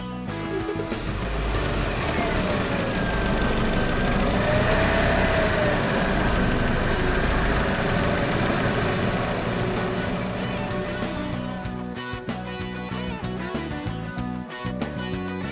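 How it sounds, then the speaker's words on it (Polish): A steady engine rumble from a Toyota Auris E15 runs continuously, idling at an even level with a faint rising whine partway through and no voices. "Silnik włączony być powinien przez około 5 minut."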